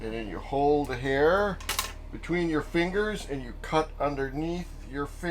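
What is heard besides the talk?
No everyday noise stands out behind the speech.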